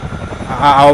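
A helicopter flies in a flight simulator game over Pelham, Alabama, its rotor and engine drone swelling louder toward the end, with a person talking over it.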